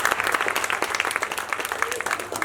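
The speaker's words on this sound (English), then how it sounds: "one more round of applause" A school audience at a Year 4 class assembly applauds, a dense patter of many hands clapping at steady loudness for the whole stretch.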